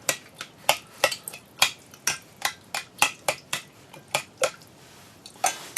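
A metal spoon scrapes and taps against the inside of an empty food can being reused as an alcohol stove, making a quick run of about twenty sharp, bright clicks at an uneven but steady pace, close and alone.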